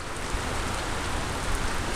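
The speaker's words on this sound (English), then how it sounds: "We've probably got 2 to 3 inches of rain so far today." Heavy warm-weather rain pours down outdoors as a dense, steady hiss with no letup, loud and even throughout.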